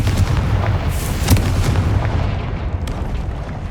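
A Confringo fire-blast spell explodes in the Hogwarts Legacy video game, a loud, booming burst with deep rumbling and crackling debris that fades over a few seconds.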